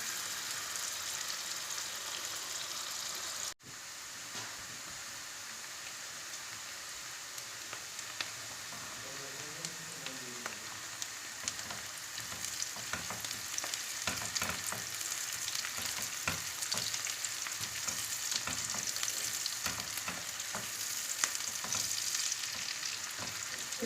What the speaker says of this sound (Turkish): Soğan doğradım bir tane menemenim için. Soğanı seviyoruz biz genelde. Birazcık kavrulsun bakalım